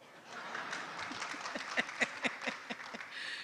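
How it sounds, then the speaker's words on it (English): An audience at a university e-learning week event claps, building into louder, sharper bursts of applause with distinct hand claps standing out toward the end, fairly distant and roomy. "when we are clapping like that, the louder the clap, what it means is that we want more"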